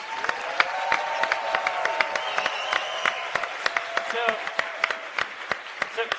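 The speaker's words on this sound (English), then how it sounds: "A round of applause for resistance units." Scattered applause from a convention audience in Washington, D.C., honoring Iranian resistance units: sparse individual claps with a steady crowd murmur and some talk underneath.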